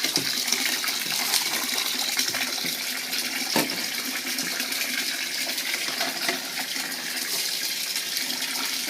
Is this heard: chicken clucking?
no